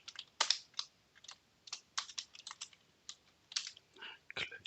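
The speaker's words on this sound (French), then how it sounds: "Clavier." Fingers type on a computer keyboard during a coding session, a quick, irregular run of soft, close key clicks at low volume, with no talk.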